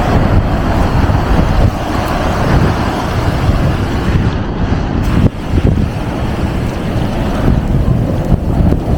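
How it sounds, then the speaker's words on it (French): Strong wind buffets the microphone in a loud, continuous roar with gusting surges, outdoors in Mauritania, with no voices heard. "Il y a beaucoup de vent."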